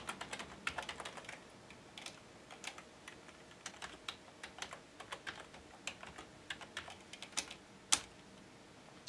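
Fingers tap out details on a computer keyboard while setting up a thin client terminal, with irregular bursts of close, quiet key clicks and one sharper keystroke near the end, and no voices.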